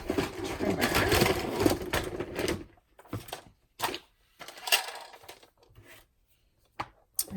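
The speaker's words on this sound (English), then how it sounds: "grab my trimmer." Paper trimmer cutting cardstock for a fun fold card: a dense sliding, scraping stretch up front, then several short separate swipes and clicks close by, with no talking.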